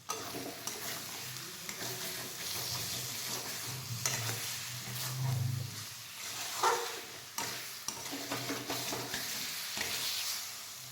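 Potatoes sautéed with spices in a pan for a Bengali fish curry, a soft continuous sizzle with intermittent scraping and stirring strokes of the spoon, fairly quiet and close.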